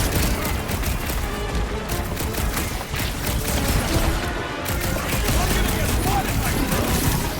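Dense, continuous gunfire in the Guardians of the Galaxy video game, loud and close, with rapid overlapping shots and impacts forming an unbroken barrage throughout.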